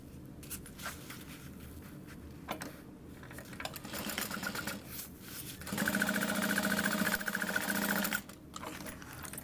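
Sewing machine stitching a 3/8 inch seam on a zippered wristlet, a steady mechanical whir that starts and stops in short bursts, then runs continuously for a couple of seconds before stopping.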